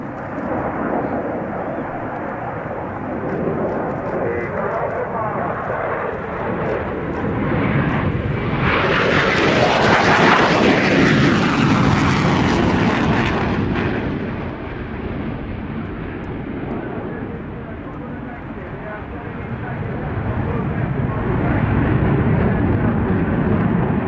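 At an airshow, a Eurofighter Typhoon jet passes at almost 1,000 km/h. A loud, rushing roar builds, peaks with a tearing high-pitched sweep around the middle, then fades to a lingering rumble that swells again toward the end.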